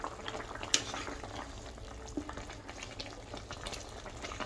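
A thin curry of hilsa fish with vegetable stems simmers in a pot, giving a soft steady bubbling and gurgle with faint small pops, close and fairly quiet with no voices.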